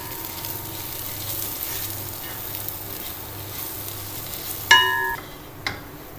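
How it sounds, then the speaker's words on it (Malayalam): Ground spices, coriander powder and garam masala, fry in a pan for chicken 65 biryani, giving a steady soft sizzle under scraping stirs, with a sharper clink or two near the end. "ഇനി നന്നായി ഇളക്കട്ടെ"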